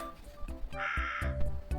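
A crow caws several times in quick succession, harsh and fairly close, with one longer, drawn-out call in the middle.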